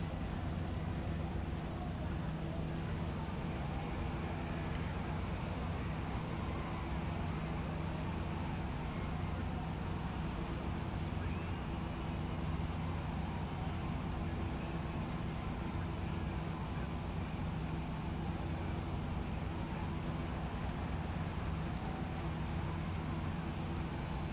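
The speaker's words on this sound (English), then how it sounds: "That beautiful sound of those cars in the background" Racing cars in the Second Life video game make a steady, continuous engine drone in the background. It holds at an even level throughout with no distinct passes.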